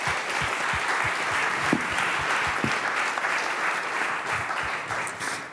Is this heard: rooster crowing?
no